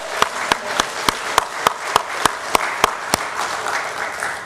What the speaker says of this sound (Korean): 영광의 박수 하겠습니다.